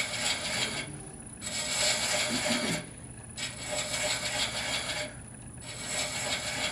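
A thread chaser rasps against spinning wood while threading a turned wooden acorn box, rhythmic scraping strokes in repeated bursts of about a second each, separated by short pauses, close and steady.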